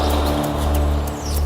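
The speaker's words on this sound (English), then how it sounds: "the wetlands are alive with birds in their hundreds of thousands" Many birds call together across a wetland, a loud, dense chorus of overlapping chirps and calls over a constant low hum of background sound.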